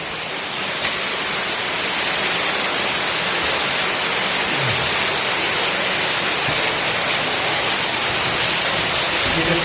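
Water streams down like heavy rain inside a cave, a loud, steady, hissing wash of falling droplets that continues without a break and with no voices.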